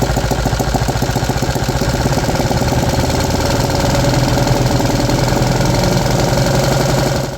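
A 3D printed engine runs hard and loud with a fast, rattling knock, a dense continuous rhythm revving high for several seconds before cutting off abruptly at the end.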